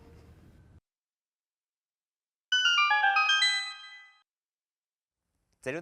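A bright, tinkling chime of rapid ringing metallic notes from a gold skulltula in Hyrule Warriors bursts out after a pause, rising and shimmering for about two seconds, then fades away.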